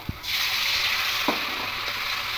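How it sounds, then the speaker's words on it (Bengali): Spice masala frying in a pan for a fish roe cutlet curry: a quiet tap, then a sizzle that swells suddenly and holds steady, broken by a few soft stirring scrapes. "আর একটু কষাতে হবে যাতে মশলাটা শুকনো শুকনো হয়।"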